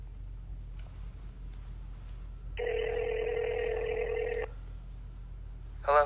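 A single long telephone ring tone sounds clearly over a low background hum, ending abruptly, followed by a brief voice at the end.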